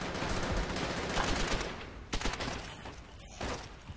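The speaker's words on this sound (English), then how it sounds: "Oh, machine gun." Machine gun fire in Call of Duty: World at War, a dense and fairly loud burst of automatic shots that thins out toward the end.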